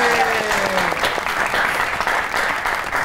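Studio audience applause welcoming a guest onto a comedy talk show, loud and dense clapping that sustains evenly throughout, with a brief voice heard near the start.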